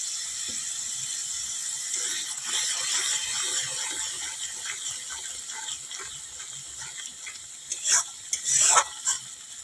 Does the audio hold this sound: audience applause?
no